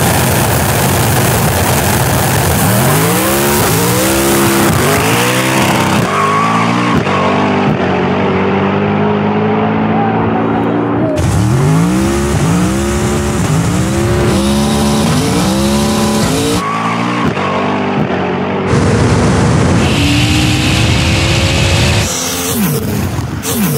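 A twin-turbo Ferrari F12 and a 1400hp all-wheel-drive Ford Mustang drag race from a roll on a no-prep track, with loud roaring engines climbing through repeated gear shifts and several separate high-revving pulls that cut off sharply between runs.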